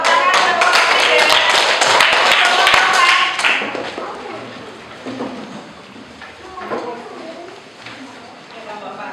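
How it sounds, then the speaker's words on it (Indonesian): Classroom applause for a student group, dense clapping for the first few seconds that then fades to scattered claps under speech. "Tepuk tangan untuk kelompok 3."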